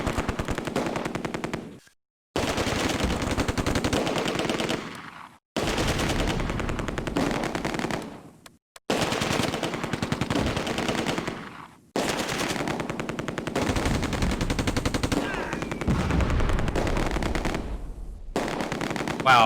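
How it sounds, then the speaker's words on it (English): Machine gun fire in the war game Close Combat: A Bridge Too Far comes in long, rattling automatic bursts separated by short silent gaps, loud and close. "Those MGs will do that."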